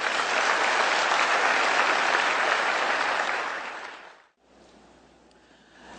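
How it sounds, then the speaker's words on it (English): A seminar audience claps together in a dense, loud burst that holds for about four seconds, then cuts off sharply into quiet room tone. "Clap your hands if you're willing to commit to that."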